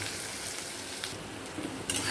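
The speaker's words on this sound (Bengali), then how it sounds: "পেঁয়াজ ভাজতে বসিয়ে দিলাম" Onions frying in a pan, giving a steady, fairly quiet broadband sizzle with faint stirring scrapes near the end.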